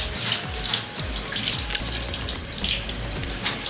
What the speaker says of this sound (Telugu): జల్లెడు ఫిల్టర్ తీసేసుకొని చల్ల నీళ్ళతో వాష్ చేసేయాలి, లేకపోతే ఒకటి అతుక్కుపోతాయి.